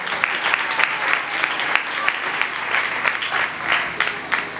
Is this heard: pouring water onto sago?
no